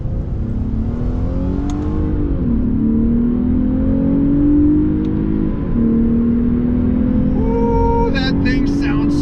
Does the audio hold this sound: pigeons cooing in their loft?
no